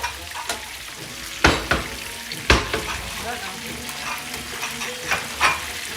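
Steady sizzling of food frying in a pan, with occasional louder pops and scraping clicks of stirring, close up.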